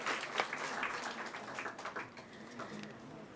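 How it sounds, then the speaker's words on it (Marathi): Audience applause at a patriotic literary convention in Maharashtra, a steady wash of clapping from a hall crowd, moderately loud and fairly even throughout with no speech over it. "जोरदार टाळ्या वाजवून आपण पुन्हा एकदा त्यांचा सन्मान करूया."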